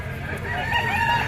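A white-legged, straight-combed Talisay stag rooster at a pet market in San Jose del Monte, Bulacan gives a short crow, close and fairly clear over faint background market noise.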